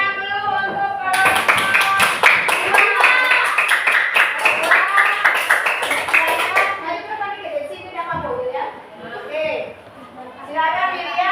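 A classroom of children claps in a rapid rhythmic burst, loud and close, then the clapping stops and children chatter and talk.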